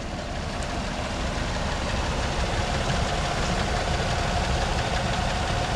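Vortec engine of a Chevrolet Silverado Z71 LT pickup idling after a long time out of commission, a steady close rumble with an even knocking pulse and no talk.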